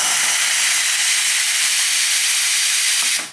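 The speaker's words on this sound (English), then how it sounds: "Let's see if the steam works finally, because now the steam boiler is getting up there" Steam wand on a Sanremo espresso machine blasts a loud, continuous close-up hiss that cuts off at the end.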